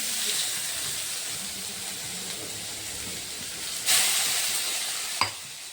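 Spices tossed into hot oil for a vegetarian soybean curry give a steady, soft sizzling hiss, swelling into a brighter burst near the end and then a short sharp crackle.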